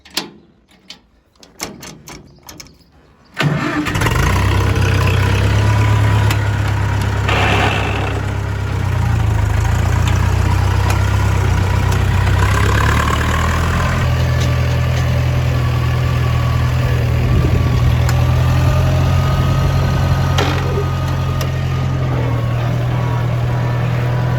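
A metallic clunk, then a vintage farm tractor engine fires up and settles into a loud, steady idle with a deep chugging rumble.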